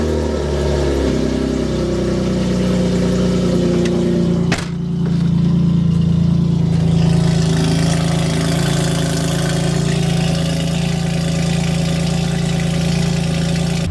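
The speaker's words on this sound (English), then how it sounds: "I'll try to capture that rasp on this short drive. It's pretty obvious and it's pretty damn loud." A BMW M3 with no exhaust resonator drones loudly and steadily, its raspy tone continuous through a short drive, with a brief dip partway through.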